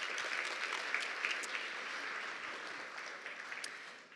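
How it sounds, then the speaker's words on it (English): An audience at a poster presentation session claps in sustained applause, a dense, even patter of many hands that fades slightly toward the end. "If everyone can give them a round of applause again."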